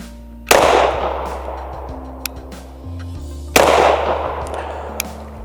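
A CZ P-10F .45 ACP striker-fired pistol fires two 230 grain Federal Punch rounds, each a sharp, loud, close crack with a short decaying tail, about three seconds apart over a steady low background hum.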